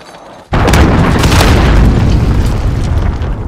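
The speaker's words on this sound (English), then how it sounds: "Allied cruise missile launched." Cruise missile detonation in Call of Duty: Modern Warfare, hardcore team deathmatch on PlayStation 5: after a quiet moment, a sudden, very loud booming blast hits and rolls on as a long, heavy rumble.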